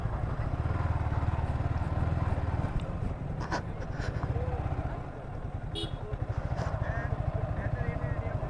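Bikers' motorcycles arrive with a loud, pulsing low engine rumble that rises and falls, near and continuous, as people talk in the background at a college ground with kash flowers.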